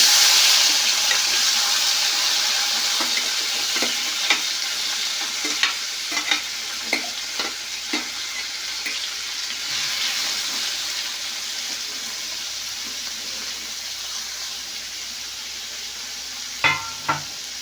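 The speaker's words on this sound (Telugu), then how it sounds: "టమాటాలు యాడ్ చేసుకోండి." Tomatoes frying in a pan for chutney, with a steady, loud sizzle and occasional stirring scrapes and taps close by, and no talk.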